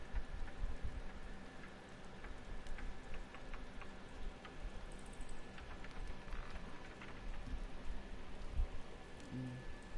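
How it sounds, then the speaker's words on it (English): Rain falls steadily as a faint, continuous patter with scattered small drips and ticks, heard from a distance with no voices over it. "Since it started raining."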